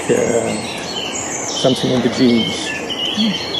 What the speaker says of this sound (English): there's something restful about hearing the birds tweeting above in the forest